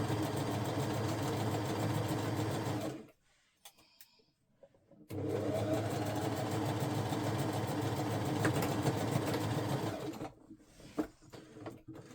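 A sewing machine stitching a dress, a fast steady mechanical whir that runs for about three seconds, stops briefly with small handling noises, then runs again for about five seconds before stopping, close and alone.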